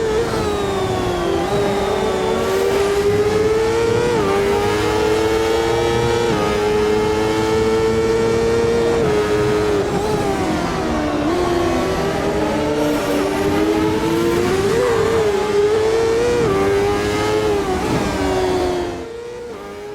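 A CART open-wheel race car in the Automobilista sim racing game screams at high revs for a long steady stretch, its engine pitch rising and falling through gear changes, loud and close, with no voices.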